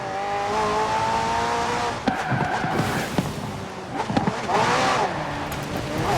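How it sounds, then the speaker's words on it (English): A McLaren P1 GTR with a twin-turbo V8 and electric assist races in Forza Horizon 4, its engine revving up and down through gear changes with tire squeal and skids over loud, continuous game audio. "The car's blistering performance is delivered by a twin-turbo V8, supplemented by a McLaren ECU electric motor and instant power assist system."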